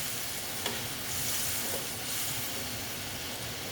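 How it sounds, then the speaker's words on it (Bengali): Soaked moong dal frying in hot oil in a pan, a loud, continuous sizzle and hiss with occasional stirring scrapes, close and steady throughout. "ডালটা আমি দিয়ে দিচ্ছি দিয়ে এটার সঙ্গে আবার ভালো মতন কষিয়ে নেব ডালটাকে"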